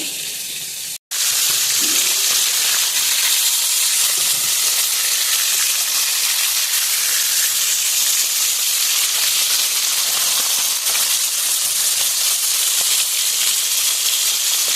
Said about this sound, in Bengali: তো এদিকে মাছের মাথাগুলো ভাজা হতে থাক